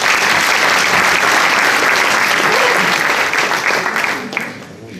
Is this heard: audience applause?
yes